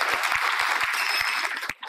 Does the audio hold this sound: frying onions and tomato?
no